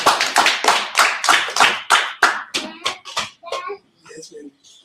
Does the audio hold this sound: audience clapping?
yes